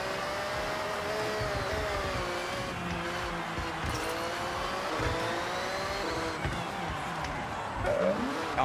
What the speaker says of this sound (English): I use the handbrake right now.